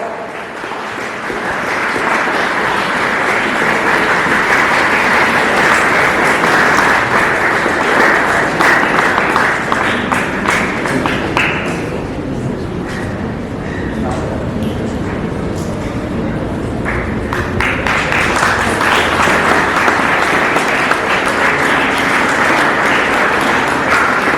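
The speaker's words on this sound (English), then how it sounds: "I request a round of applause for outstanding efforts." Sustained, dense applause from a large audience at a school Republic Day prize giving, steady and loud throughout, with a slight dip in the middle before swelling again.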